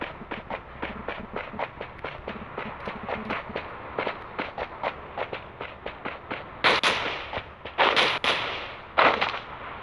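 Gunfire in the mobile battle royale game Rules of Survival: a steady run of single shots, fairly distant, followed by a few louder, closer bursts toward the end.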